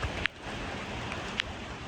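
Heavy rain falls outdoors as a steady, even hiss, fairly faint and distant, with a couple of small sharp ticks and no talking.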